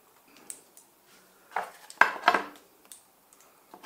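Metal clinks and clatters as an MSR Pocket Rocket 2 backpacking stove and its gas canister are packed away into their case, a few sharp knocks clustered in the middle with softer handling noises around them.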